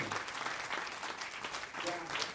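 Congregation applauding during a church service, a short, steady patter of clapping at moderate distance with voices mixed in.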